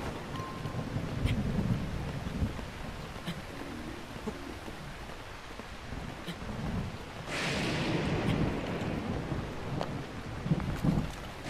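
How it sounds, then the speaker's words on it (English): Thunderstorm in the video game The Legend of Zelda: Breath of the Wild, with steady rain and wind, low rumbling thunder swelling midway, and faint clicks throughout, no talking over it. "I'm gonna get struck by lightning and I'm not gonna freaking make it."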